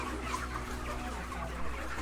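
Chickens cluck softly in the background on a chicken farm during feeding and watering, over a low steady hum, with a few faint scattered calls.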